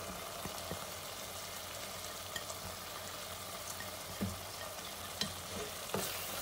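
Spice masala with chopped green chillies fries in a pan for aloo bhujia, a faint, steady sizzle with occasional light knocks and scrapes from stirring.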